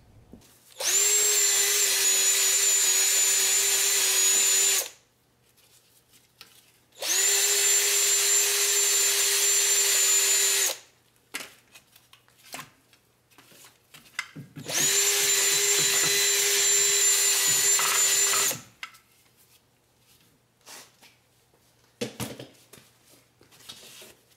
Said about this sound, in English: Now the next step is gonna be cleaning this bearing journal.